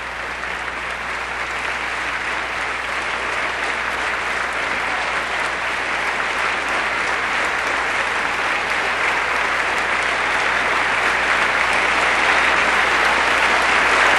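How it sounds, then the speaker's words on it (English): Members of the U.S. Congress applaud President Cory Aquino, a long, steady roar of clapping from a large chamber audience that holds loud and dense and swells slightly toward the end. "That's quite a long round of applause for President Aquino."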